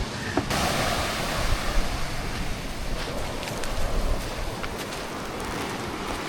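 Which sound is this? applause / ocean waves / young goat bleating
ocean waves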